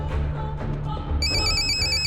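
A telephone rings with a bright, repeating electronic trill that enters partway through, sounding close and clear over a low background hum in an Indian office setting.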